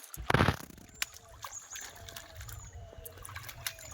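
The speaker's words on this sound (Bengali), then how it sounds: "এবারে মাছগুলো ধুয়ে নেব" Fish being washed at a village pond ghat, with water sloshing and trickling near the surface in short splashy bursts, loudest at the start and then softer intermittent dribbles and movements in the water.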